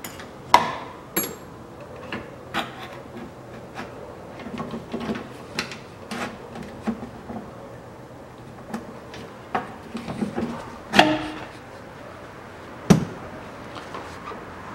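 Nuts being unscrewed on a 1982 Land Rover Series III during teardown: scattered metallic clicks, ratcheting and occasional sharp knocks at close range, irregular over several seconds, with no talking.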